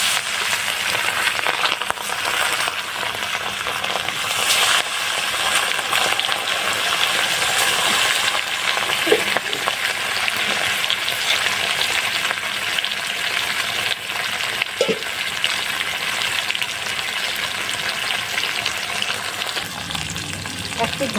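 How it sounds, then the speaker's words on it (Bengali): Bata fish frying one at a time in hot oil over a dry-firewood fire, a steady close sizzle that runs without pause, with a few faint clinks and stirring sounds and no talk. "তেল গরম হয়ে গেছে, এবার আমি এক এক করে মাছ ভেজে নিচ্ছি।"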